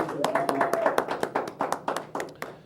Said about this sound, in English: Let's a round of applause for this young man right here